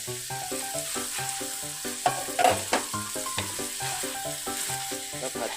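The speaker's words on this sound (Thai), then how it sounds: "เรื่อยๆเลยนะครับค่อยๆผัดไปนะครับ ใช้ตะหลิวสอง" Soaked glass noodles stir-fried in a wok with two spatulas, a steady close sizzle broken by rhythmic metal scrapes and clanks, growing busier midway, with no voices.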